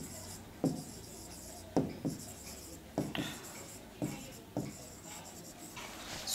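Pen or marker writing by hand on a board or paper while a Forex exam question is worked through, a series of short scratchy strokes recurring every second or so, fairly close, with no speech over them.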